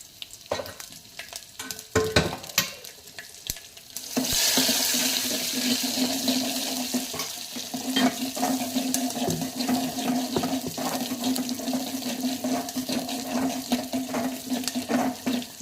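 Onions drop into a hot pan after curry leaves have fried, a few clatters followed by a sudden loud, steady sizzle that carries on close up with occasional stirring.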